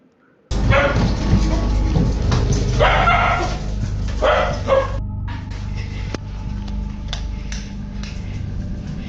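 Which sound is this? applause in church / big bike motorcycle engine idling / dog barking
dog barking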